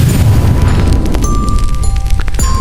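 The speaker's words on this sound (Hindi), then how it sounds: "एक जोरदार विस्फोट होता है।" A loud explosion effect in a horror story, a heavy sustained boom and rumble filling the whole stretch with crackling bursts on top and no talk.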